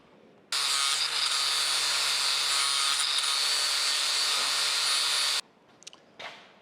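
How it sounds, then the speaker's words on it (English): An angle grinder fitted with a flap disc grinds weld spatter off a steel part on an old cane mill, a loud steady whine running about five seconds before cutting off, followed by a few faint clinks. "I'm going to put probably a flap disc on here and just kind of grind that stuff off"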